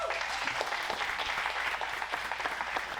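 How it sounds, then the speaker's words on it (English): Applause from a seated audience at a real estate flipping seminar, steady dense clapping at moderate distance that holds evenly for the full stretch with no voices over it. "Let's give a round of applause."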